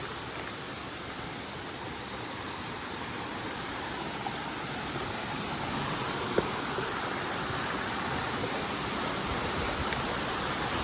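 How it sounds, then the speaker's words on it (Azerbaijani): Şizir waterfall near Astara, its moderate flow of water falling steadily in a broad, continuous rushing wash, close and even throughout with no breaks, with no voices over it. "Gördüyünüz kimi bu da Şizir şəlaləsi."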